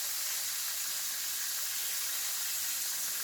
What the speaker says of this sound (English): we're gonna keep this frying